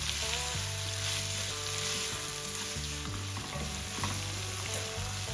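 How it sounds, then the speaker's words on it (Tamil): Onions sautéing in a pan for chicken biryani, a steady, close crackling sizzle with occasional stirring scrapes, continuous and fairly loud throughout with no voices. "இப்போ இந்த வெங்காயம் நல்ல பொன்னிறமா வரும் வரைக்கும் நான் நல்லா வதங்க விட போறேன்."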